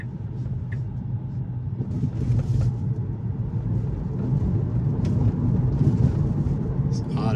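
Inside a Tesla running FSD Beta, the driver overrides the accelerator, bringing a low road rumble and tyre noise that builds steadily as the car speeds up. A voice speaks faintly over it.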